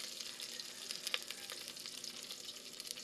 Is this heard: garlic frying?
yes